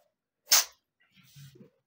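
A cat gives one quick, sharp sneeze up close, followed by faint soft sounds, then quiet.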